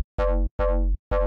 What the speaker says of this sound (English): Okay, so I have the bass sound.